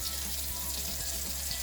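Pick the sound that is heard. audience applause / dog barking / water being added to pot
water being added to pot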